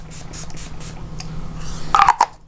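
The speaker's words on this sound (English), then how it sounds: "now I'm going to spray some of this Urban Decay Chill Makeup Setting Spray on my face" A couple of quick aerosol sprays of makeup setting spray onto a face, close by, brief hissy mist bursts following a quiet stretch with soft background hum.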